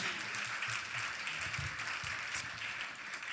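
Cabaret audience applauding in a hall, a steady wash of clapping from many hands that holds level for the whole stretch with no voices rising above it.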